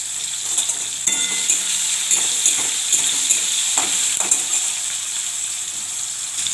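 Spices temper in hot oil for a tomato dal, making a bright, continuous crackling sizzle broken by light clinks of stirring, close and loud with no talking.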